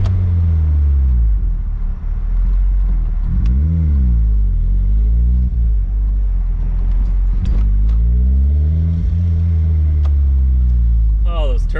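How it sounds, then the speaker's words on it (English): A turbocharged 1ZZ engine in a Toyota MR2 revs hard on a dyno, a loud, close droning roar that swoops up and down in pitch several times, with turbo whooshes near the end and people talking over it. "Oh, those turbo noises."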